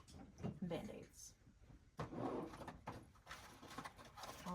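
A medication cart drawer slides open and shuts in a nursing skills lab, giving a few short scraping clunks close by while a person talks.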